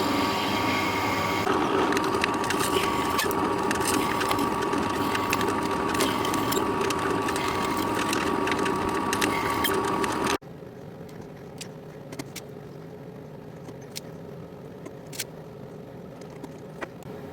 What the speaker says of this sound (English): the longer drill bit is in, so I can now reach the holes